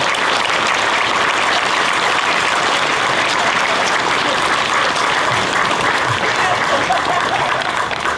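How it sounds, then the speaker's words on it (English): A large outdoor crowd applauds steadily at a Flag Day monument dedication and ribbon cutting, a dense, loud, continuous wash of clapping with no break throughout. "Can we get a big round of applause for everybody?"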